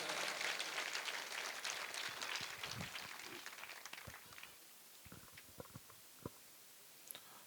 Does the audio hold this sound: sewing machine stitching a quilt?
no